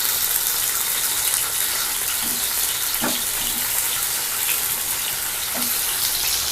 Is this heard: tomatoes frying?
yes